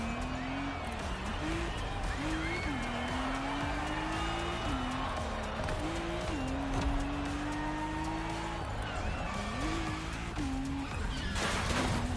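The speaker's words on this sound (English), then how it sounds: "I'm hitting some mean drifts in this car" A Lotus drifting through tight turns in The Crew Motorfest, loud continuous engine drone under repeated rising and falling tire squeals as the car slides, with a voice talking over it throughout.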